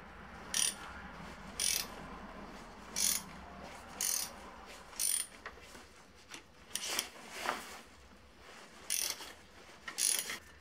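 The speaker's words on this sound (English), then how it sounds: "Now removing the spark plugs, some of them were too tight." A ratchet wrench loosens tight spark plugs on a Volvo V70 engine, giving a series of short, close clicking bursts at irregular intervals with brief pauses between strokes.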